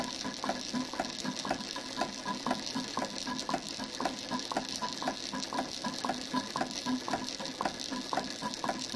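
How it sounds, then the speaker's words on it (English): A Bing 10/115 double-acting toy steam engine runs with a quick, steady mechanical clicking and chuffing rhythm, fairly quiet and close, with no voices over it. "This is a double acting engine."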